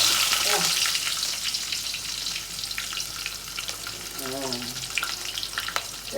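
Onions sizzling in hot oil in a pan during home cooking, a steady bright hiss throughout with brief stirring scrapes, close and fairly loud.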